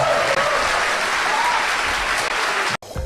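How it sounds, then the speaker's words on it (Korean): An audience at a Korean lecture claps in a dense burst of applause lasting about three seconds before cutting off abruptly. "박수 좀 주세요."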